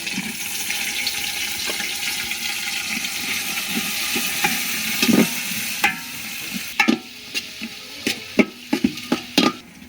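Chopped onion and green chili sizzle in hot oil in a cooking pot, a steady frying hiss broken by sharp scraping and stirring knocks that grow more frequent toward the end.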